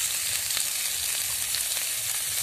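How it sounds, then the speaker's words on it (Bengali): Bottle gourd stems frying in oil as they are stirred, a dense, loud, even hiss of sizzling with faint scrapes of stirring, no voices. "ডাঁটাটাকে আমি একটু নাড়াচাড়া করে ভেজে নেব।"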